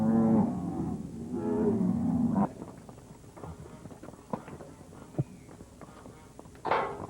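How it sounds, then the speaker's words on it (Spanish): Beef cattle on a hacienda moo in a deep, drawn-out call, then fade into scattered hoof clops, footsteps and soft knocks, with a short loud burst near the end. "689 cabezas de ganado de carne de alta calidad lo atestiguan"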